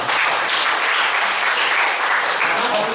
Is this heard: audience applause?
yes